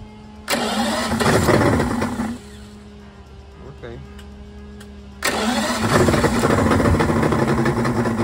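A 2004 Yamaha 150 fuel-injected outboard motor, running rough from too much oil and bad coils, cranks and catches with a loud roar, drops to a rough idle, then revs back up loudly, close by.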